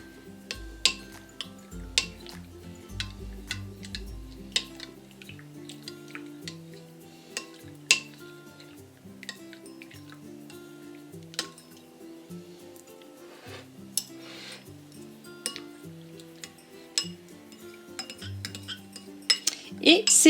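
Melted Marseille soap stirred with hot water in a small bowl for homemade slime, giving faint scraping and clinking of a utensil against the bowl with sharper knocks scattered throughout and a low tonal hum beneath.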